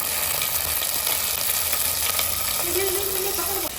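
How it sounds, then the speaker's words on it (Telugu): Ginger garlic paste frying in a pan for Hyderabadi egg dum biryani, a constant close sizzle and crackle with light stirring scrapes, plus a brief higher tone near the end, no talk. "అల్లం వెల్లుల్లి పేస్ట్ని కొంచెం పచ్చివాసన పోయేదాకా ఫ్రై చేసుకోవాలన్నమాట"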